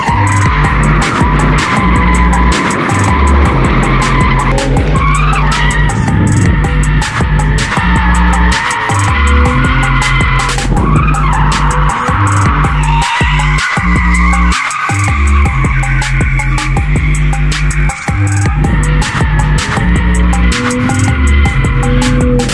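A BMW 320i drift car at the Circuito Le Colline track in Chignolo Po keeps its engine roaring steadily as long, loud tire squeals and skids rise and fall over the whole stretch, with no talk.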